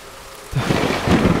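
Minecraft thunderstorm from a Czech game film: quiet hiss, then a sudden close rumble of thunder over heavy rain that keeps rolling.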